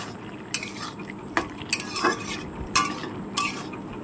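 A spoon stirs a paneer and potato curry in a pan, making several distinct scraping clinks spaced about a second apart over a low, steady background hiss, with no talking.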